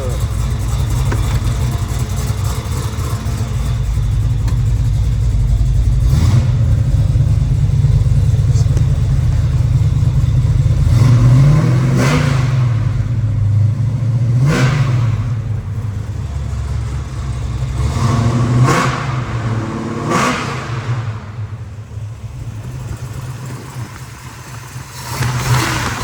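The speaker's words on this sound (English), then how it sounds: "To give this thing a rev, a couple revs so you can hear it." A 1972 Chevrolet Chevelle SS 454 big-block V8 idles loud and close, then is revved several times in sharp bursts that rise and fall back to a lumpy idle.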